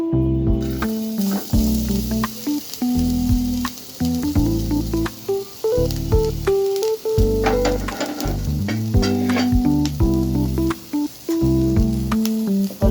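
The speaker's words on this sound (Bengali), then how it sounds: "এই যে নারকেলটা পাতিলে দিয়ে দেব। চুলা জ্বালিয়ে দিয়েছি।" Grated coconut sizzling and crackling in a pot on a lit stove, a steady frying hiss with scattered pops and stirring scrapes, loud and close throughout.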